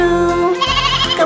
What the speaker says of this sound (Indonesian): Mary punya domba kecil yang seputih salju.